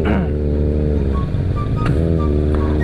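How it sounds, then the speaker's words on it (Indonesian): Loud engine of a big motorcycle in congested Saturday-night street traffic, a steady rumble close by with brief revving surges near the end. "tuh suara moge cakep banget ya"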